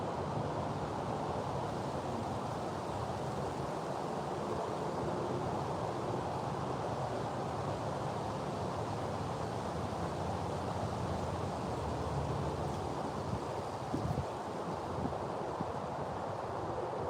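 Steady outdoor wind buffeting a microphone during a catfishing outing, a continuous low rushing roar with no speech, holding level throughout apart from a brief bump near the end.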